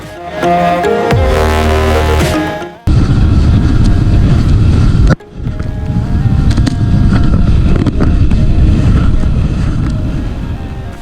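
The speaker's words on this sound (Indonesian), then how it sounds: "kalian bisa lihat sendiri ombaknya begitu kencang menerobos dan menerjang kapal speedboat kami ini" Speedboat in Kalimantan pounding through strong waves, with a loud, continuous roar of engine, wind and water rushing past the microphone, broken by two abrupt cuts.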